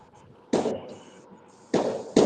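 Three sharp, loud firecracker bangs close by, each a sudden crack with a brief crackling tail, spaced irregularly.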